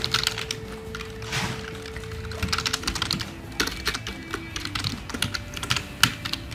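A Wi-Fi password is typed on a computer keyboard in a rapid, close, uneven patter of key clicks over a faint steady hum.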